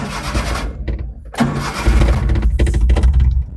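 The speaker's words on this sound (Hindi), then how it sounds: "आराम से स्टार्ट हो गई," A Maruti Omni van engine cranks in short bursts, then catches and runs at a close, rough idle that grows steadier toward the end.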